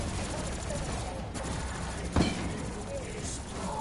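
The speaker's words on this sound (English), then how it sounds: "I'm using the MG. Best gun in the game, the MG42 Mountain." MG42 machine gun fire in a Call of Duty zombies match on the Gorod Krovi map, a continuous rattling stream of rapid shots with one sharper burst, blended with game noise at moderate loudness.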